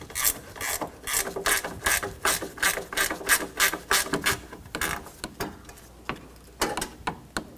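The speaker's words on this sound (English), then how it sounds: "10mm wrench." A 10mm ratcheting wrench clicks rapidly in short bursts while a bolt is worked out of the radiator and condenser fan assembly of a 2004-2009 Toyota Prius, close and crisp with brief pauses.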